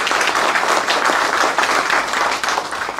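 An audience applauds the mayor, Keith Mashburn, at a Simi Valley gathering, with dense, steady clapping filling the room at close range for the full stretch and no voices over it.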